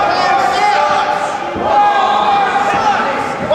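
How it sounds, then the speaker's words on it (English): A wrestling crowd jeers and shouts at the wrestler Wildcard, a dense roar of many voices filling the arena with rising and falling chanting, loud and continuous. "Crowd telling Wildcard what to think of him."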